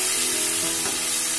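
Spices frying with tomato and salt in a pan for fish curry, a loud, steady, close sizzle filling the whole moment with a faint scrape of stirring underneath.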